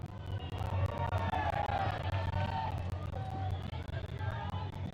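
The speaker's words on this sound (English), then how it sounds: "Cody waits to hear the crowd get low and then start to get high and start to cheer louder and even louder" Crowd at a strongman competition in a continuous loud roar of voices, urging on a competitor as he walks with a heavy load, rising in intensity throughout.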